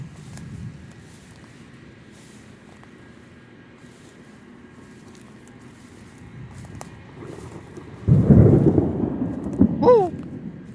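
Thunder rolling during a thunderstorm over a small urban prairie: a soft low rumble through quiet ambience, then a loud, close crack and boom around the eighth second, rumbling on for several seconds.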